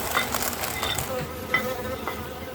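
Honeybees buzzing around a beehive, a dense continuous hum of many wings with a few louder passes near the microphone, no voices.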